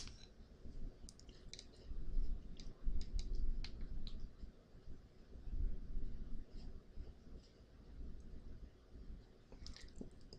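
A computer mouse clicks quietly in scattered bursts, several quick taps grouped together and then pauses, close but soft over faint room noise.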